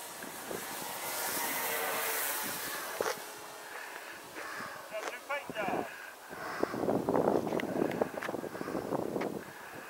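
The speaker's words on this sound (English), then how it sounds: "It's kind of windy out here today," Gusty wind of about 10 miles an hour buffets the microphone with a low rumble that rises and falls at an outdoor model airplane flying session, while a voice speaks intermittently over it.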